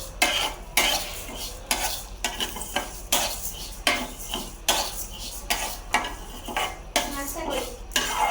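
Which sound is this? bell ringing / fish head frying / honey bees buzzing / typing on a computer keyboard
fish head frying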